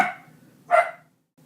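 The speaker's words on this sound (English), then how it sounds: "dog was barking." A single sharp dog bark rings out indoors after a faint trailing sound, then silence, with the bark fairly loud and close.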